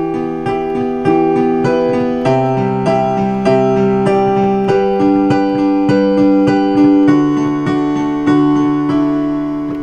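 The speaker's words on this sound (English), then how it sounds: "So right now, I'm on the bright piano sound." A bright, harsh-toned digital piano plays steady repeated chords alone, loud and close, each strike sharp and ringing.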